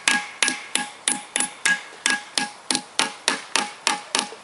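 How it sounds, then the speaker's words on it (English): An old knife is hammered into a crankshaft bearing on a Toyota VVT-i engine being taken apart: about fourteen sharp, close metallic blows in a steady, quick rhythm, each ringing briefly. "And then I insert a little bit hammering."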